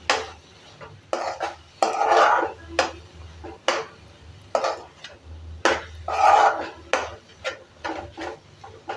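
Kasuri methi being stirred into a spicy karanji filling in a pan, with repeated scraping and clinking of a spoon against the vessel in uneven bursts, close and fairly loud.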